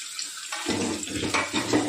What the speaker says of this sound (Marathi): आपल्याला पाहिजे तेवढं पाणी ओतून घ्यायचं त्याच्यामध्ये